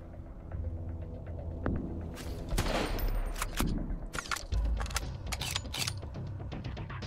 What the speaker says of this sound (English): He can shoot you from such a distance, and you cannot hit him back.